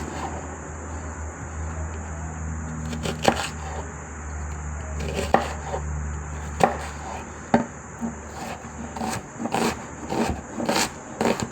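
A knife chops filling for Malaysian curry puffs on a board, with irregular close thuds and scraping over a steady background hum, the cuts growing faster toward the end.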